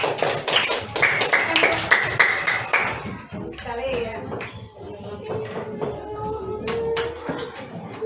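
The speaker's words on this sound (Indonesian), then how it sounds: "Tepuk tangan untuk kelompok." A classroom group claps hands in a burst of quick, dense applause for the first few seconds, then it fades into scattered taps and shuffling while voices talk.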